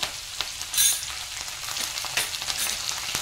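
Green chili and curry leaves with cumin seeds sauté in hot oil in a pan for a Maharashtrian dal khichdi, a steady close crackling sizzle with a few sharper pops and no voices.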